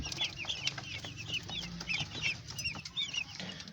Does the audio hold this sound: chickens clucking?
yes